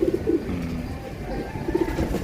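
Pigeons cooing nearby in short soft bursts at the start and again near the end, over a low background murmur.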